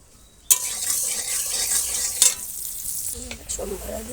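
Mustard seeds and dried chili tempering in hot oil for a mango dal start with a sudden loud sizzle that crackles on steadily, with a second burst midway and some faint stirring and pan clinks near the end.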